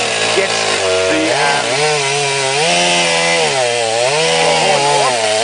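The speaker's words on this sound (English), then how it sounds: "We use a chainsaw first, and there we go." A chainsaw cuts a rhino's horn during dehorning, its loud engine revving up and down in wavering pitch for several seconds, close and continuous, with no talk over it.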